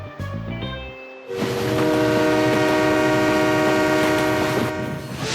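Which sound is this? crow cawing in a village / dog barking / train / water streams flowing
train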